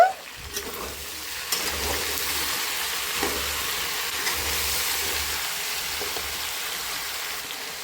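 Tomato mixture hits a hot pan and sizzles steadily, a broad hiss that runs the whole time with faint scraping thumps as it is stirred; no talking.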